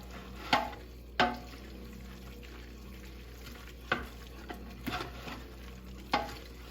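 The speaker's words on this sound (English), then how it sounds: "And stir it around and get it cooked in." Tomato paste being stirred into cooking peppers in a pot, with a soft steady sizzle underneath and a handful of sharp utensil scrapes and knocks against the pot at irregular intervals, no talking.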